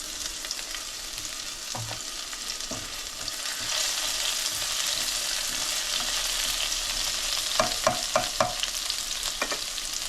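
Chopped garlic fries in a hot pan with no added oil, giving a steady close hiss of sizzling broken by a few sharp scrapes of stirring near the end.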